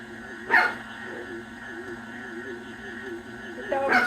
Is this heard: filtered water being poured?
no